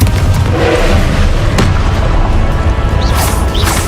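A Confringo fire spell explosion in Hogwarts Legacy, a loud sustained booming blast with crashing debris in a busy, continuous battle din.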